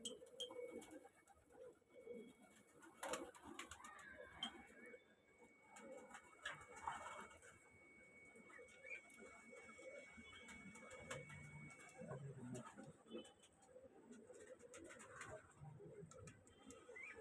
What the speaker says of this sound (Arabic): فرد الحمام نازل قلقان، هيصحى خلي بالك